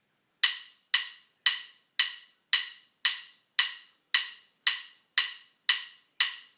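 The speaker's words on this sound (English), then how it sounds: "the very first 3 measures are just offbeat stick clicks" Twelve sharp offbeat drumstick clicks, evenly spaced at a steady moderate tempo, close and crisp with silence between each.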